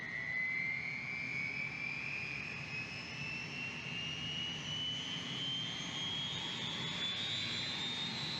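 A Huey helicopter turbine spooling up during engine start in a flight simulator, a steady roaring whine whose pitch climbs slowly and continuously over a low rumble, with no talk.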